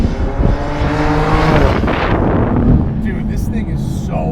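A fast, high-horsepower car drives hard with a loud, rushing engine roar and wind buffeting from inside the cabin, its pitch shifting as it accelerates, with people talking over it.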